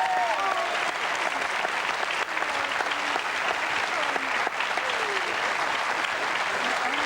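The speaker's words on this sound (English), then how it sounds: "I'll give them a round of applause and welcome them." Studio audience applauding steadily and loudly for a team called the Fruity Beauties on a 1996 TV game show, a dense wash of clapping that runs unbroken throughout.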